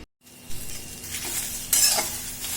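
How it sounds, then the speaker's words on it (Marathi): Chopped okra is dry-roasted in a pan, a spatula scraping and turning it with soft hisses that swell into a brighter, louder stir partway through. "भेंडीला सगळा चिकटपणा निघून जातो अशी भाजून घेतली"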